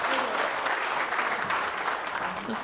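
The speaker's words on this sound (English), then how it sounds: "Another round of applause for Mr." Audience applause at a 90+ birthday celebration, a loud, steady wash of clapping from a sizable crowd that holds for the whole stretch without a break.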